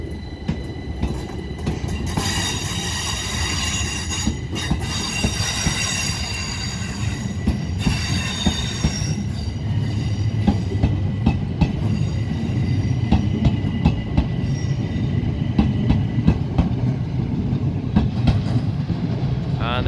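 A train departs Lewes station, its wheels squealing and rails clacking steadily, loud and close for the whole stretch, with an electric whine rising early and a few faint voices underneath.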